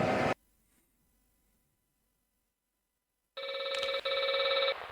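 A telephone rings in a Halloween-night setting: a short burst of ringing, a pause of near silence, then a loud, steady electronic ring tone resumes and continues, with no voices.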